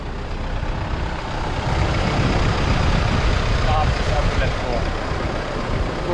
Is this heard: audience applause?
no